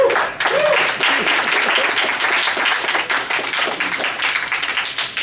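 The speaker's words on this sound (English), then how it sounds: "thank you for the applause." A comedy club audience applauds a stand-up act, dense close clapping at a steady loud level that thins slightly toward the end.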